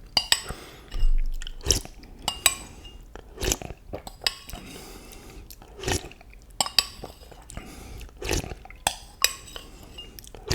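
Close-up chewing of sugary cereal in milk, with wet, crunchy mouth sounds and several sharp spoon clinks against a bowl in an irregular rhythm, with no talking.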